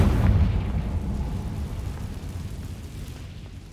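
A Confringo blasting spell explodes in the Hogwarts Legacy video game, a heavy low boom that hits at once and then rumbles and slowly fades over several seconds.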